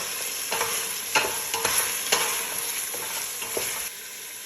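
Meat stirred with a tablespoon of tomato paste in a hot pan, a constant frying sizzle broken by irregular spoon scrapes and clinks, close and loud with no talk.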